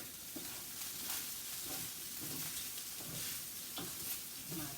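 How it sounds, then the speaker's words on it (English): Pineapple shrimp fried rice sizzles in a pan while a spatula stirs it, giving a continuous frying hiss broken by regular scraping pushes, close and fairly quiet. "And I'm still stirring."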